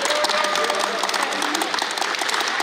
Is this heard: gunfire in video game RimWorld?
no